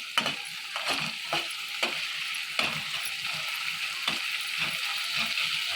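Garlic paste sizzles and fries in a pan over a raised gas flame, a steady close hiss broken by repeated scraping stirs of a spoon, with no voices.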